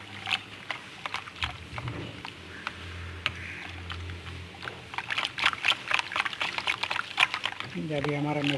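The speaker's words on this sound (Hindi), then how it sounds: "उसको अच्छी तरह हमने मिक्स करना है और हम पतीले में डाल देंगे अभी मसाले में" Yogurt and water mixture being poured into a pot of spices for kadhi pakora, with irregular splashing and clicks through the middle and end over faint background noise.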